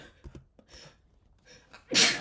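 A single loud, forceful, wet sneeze close to the microphone at the end, preceded by quiet breathy sounds and faint movement.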